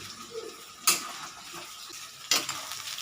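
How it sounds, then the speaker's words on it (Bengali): Potatoes and onions sautéing in a pan: a soft background sizzle broken by two brief scraping bursts of stirring. "এবার আলু আর পেঁয়াজটাকে একসাথে কষাচ্ছি"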